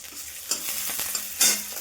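Steady sizzling and crackling of a fish head frying in a pan, with a few louder spatters and scraping stirs, close and continuous with no talking.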